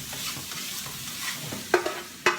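Salted egg whites are stirred in a pan, with a soft scraping and light sizzle punctuated by a few sharp utensil clicks against the pan, no voices.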